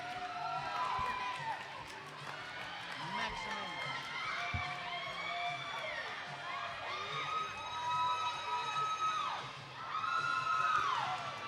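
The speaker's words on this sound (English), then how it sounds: "It looks like the crowd is going wild" Roller derby arena crowd cheering and whooping in a sustained roar, with shrill shouts and whistle-like cries rising over it and swelling loudest near the end.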